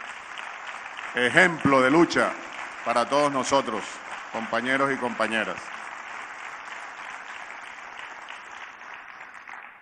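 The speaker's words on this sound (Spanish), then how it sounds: "Un gran aplauso nuevamente para este" An assembly session crowd applauds in tribute to a guest being honoured, steady clapping running throughout under someone speaking at a podium, continuing on its own after his voice stops.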